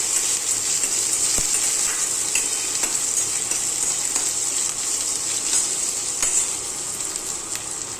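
Onions browning with coriander-based masala in a hot pan, a steady continuous sizzle with occasional stirring scrapes, close and fairly loud with no talking.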